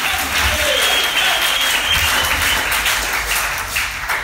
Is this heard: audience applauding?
yes